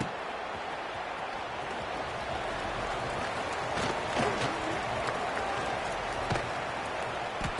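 A stadium crowd in a Madden football video game roars during a punt return, a dense, continuous wash of cheering and noise that swells slightly midway with scattered thumps.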